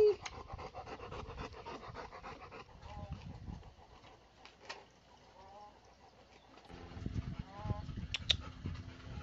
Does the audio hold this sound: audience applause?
no